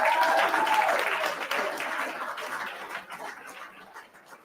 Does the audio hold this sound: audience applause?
yes